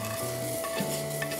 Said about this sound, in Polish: I teraz do gotującej się zupy dodajemy to wszystko.